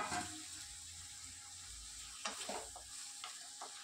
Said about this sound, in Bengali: আর এই টমেটোটা একটু ভাজতে থাকতে হবে